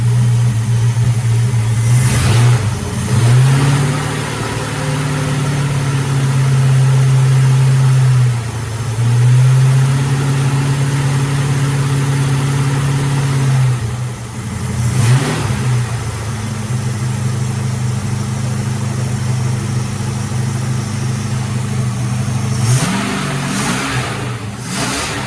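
Car under restoration with its engine running rich, a steady close low hum that rises briefly with revs in a few places, continuous throughout with no talking.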